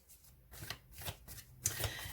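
A Spirit Animal Oracle card deck is shuffled close by, giving soft papery riffles in a few quick bursts at low volume.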